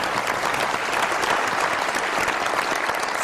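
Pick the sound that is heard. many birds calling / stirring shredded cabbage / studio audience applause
studio audience applause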